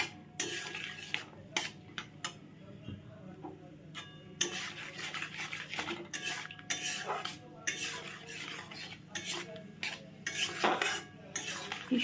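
Raisins and cashews fry gently in ghee in a wok over low flame, under close clinking and scraping of a metal spoon against the pan, with a faint sizzle and no voices.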